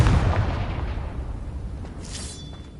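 A Confringo fire spell goes off in Hogwarts Legacy as one loud, booming blast with a rumbling low tail that slowly fades, followed by a faint crackle and a brief bright whoosh near the end.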